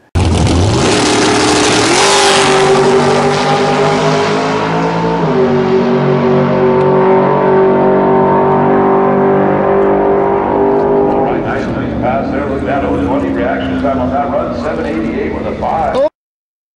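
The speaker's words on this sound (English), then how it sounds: "This will be the second pass in the dragster." A dragster roars through a drag racing pass, a loud sustained engine note with steady harmonics that shifts pitch as it accelerates, fading slightly toward the end, with people talking over it.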